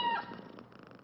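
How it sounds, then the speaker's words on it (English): A cat purring softly in a short, low, rumbling burst, close by and alone. "Yeah, dude, she's purring away."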